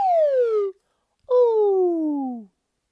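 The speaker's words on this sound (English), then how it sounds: "let's warm up with the slide whistle" A slide whistle plays two separate descending glides, the first shorter, then a brief pause and a longer falling swoop, bright and close during a children's music lesson warm-up.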